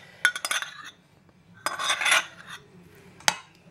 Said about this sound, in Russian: А вот теперь уже помешает и наша ложка, чтобы выложить последнее.